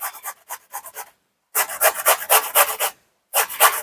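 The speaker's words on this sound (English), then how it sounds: "I'm going to grate some cucumber and some garlic. And I'm just going to use a box grater for this." Cucumber rubbed on the fine side of a box grater, making close, rhythmic rasping strokes in quick bursts with short pauses between them.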